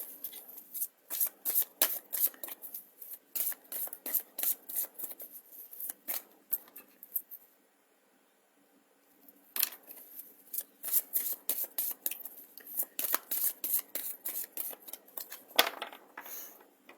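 A deck of oracle cards is shuffled by hand in rapid riffling bursts, close and crisp, with a short pause midway before the shuffling resumes; no talking.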